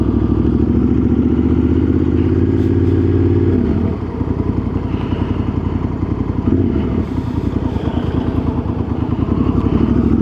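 Motorcycle heard on a cold-weather road ride, a loud close engine drone with rapid firing pulses that dips briefly, then rumbles on steadily without speech.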